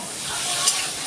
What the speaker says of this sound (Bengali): আলুটা আমি একটু লাল লাল করে ভেজে তুলে নিচ্ছি